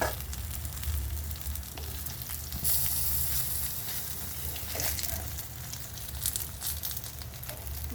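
Eggplant slices frying in hot oil in a pan, giving a continuous close sizzle and crackle with occasional louder pops and spatters.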